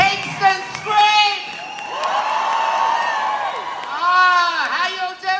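A live audience at Pryzm in Kingston screams and cheers loudly in rising waves, with high whoops and shrieks swelling twice over a steady crowd roar.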